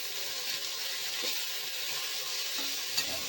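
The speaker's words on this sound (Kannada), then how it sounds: "ಪುದೀನ ಸೊಪ್ಪು ಹಾಗೆ ಕೊತ್ತಂಬರಿ ಹಾಕಿಕೊಂಡು 2 ನಿಮಿಷ ಫ್ರೈ ಮಾಡ್ಕೊಳ್ಳಿ." Mint leaves and coriander fry in a pan for tomato bath, giving a soft, even sizzling hiss with faint stirring scrapes and no speech.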